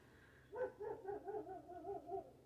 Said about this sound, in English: My dog's going crazy out there.